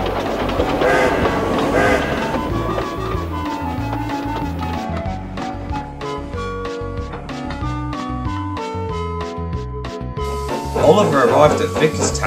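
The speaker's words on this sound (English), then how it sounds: "Soon Oliver was steaming along the main line." A steam engine runs along a main line, its rhythmic clickety-clack and rolling train noise steady beneath loud, prominent music and possible voices across the whole stretch.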